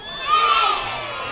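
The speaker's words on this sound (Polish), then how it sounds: "Kto jest gotowy, krzyczy hej!" Crowd of children shouting "hey" together at a children's song concert, a loud, cheering group yell that swells and then holds steady across the moment.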